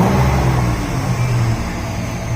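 A 400hp Nissan Hardbody truck engine being revved up close, a loud, dense, steady roar that holds through the whole stretch with no talk.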